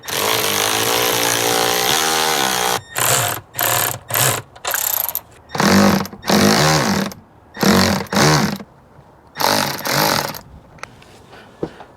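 Power tool tightening hose clamps on a Momentum GT cold air intake in a Ford Super Duty, fired in a run of short loud bursts with gaps between them after a longer opening whir.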